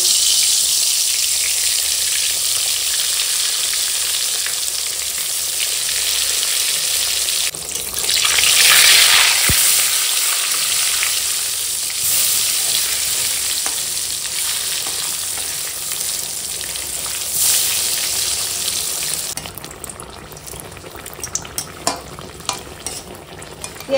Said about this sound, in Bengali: এরকম চাকচাক করে বেগুন ভাজা এখন কি ভালো লাগে খেতে।